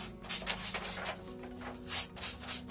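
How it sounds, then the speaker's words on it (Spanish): Sandpaper rubbed gently over a piece of a handmade angel-wing decoration, soft, airy scratching strokes in a loose repeated rhythm, quiet and close, with no speech. "voy a tomar mi pieza y con mi lija de manera muy suave voy a empezar a hacer este movimiento"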